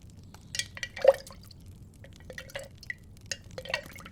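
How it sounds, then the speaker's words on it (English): Water stirred in a bowl for ASMR potion making, with soft intermittent drips, light sloshes and small glassy clinks, close and quiet and with no talk. "You have the classic stir."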